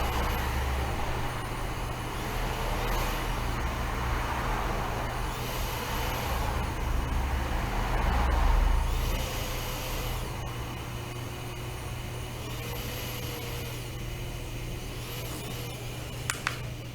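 A Transcend 3 CPAP machine running at a pressure of 12 gives a steady, continuous airy hum with a low drone underneath. It stays close and even for the whole stretch, with soft breathy swells and no talk.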